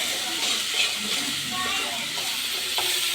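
Turmeric and salt are stirred into food sizzling steadily in a pan, a close, continuous frying hiss with scraping stir sounds throughout.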